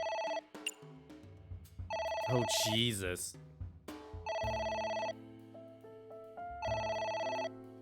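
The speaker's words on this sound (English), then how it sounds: "It's ringing again." Repeated bursts of a harmonic electronic telephone ring in the video game AI: The Somnium Files, loud and close, separated by pauses with music underneath and a brief spoken exclamation between rings.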